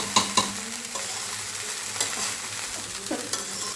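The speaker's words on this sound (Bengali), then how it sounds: "এবার সব কিছুকে ভালো মতো মিশিয়ে নেব।" Bengali-style fried rice seasoned with black pepper is stirred in a hot pan, a steady sizzle broken by a few sharp spatula scrapes and clinks, close and fairly loud with no talk.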